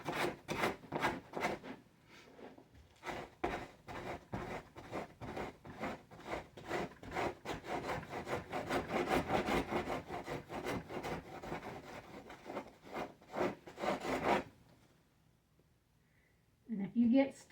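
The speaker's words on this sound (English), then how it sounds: "Sometimes if you scrape it the opposite direction, it helps peel what might be left off." Scraping leftover tissue off a rabbit hide by hand: repeated close scraping strokes in a fairly steady rhythm, mixed with talk, before a short pause near the end.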